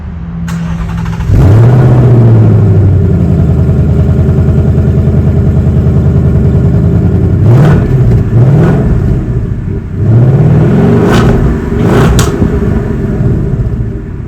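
A 2024 Ford Mustang fitted with an MBRP exhaust is revved close by in several loud, sharp blips, each climbing quickly and then falling back to a deep rumbling idle between bursts.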